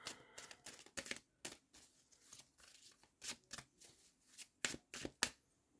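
Tarot cards shuffled by hand: a dense run of close, crisp riffling slaps and flutters in an uneven rhythm, with no talking.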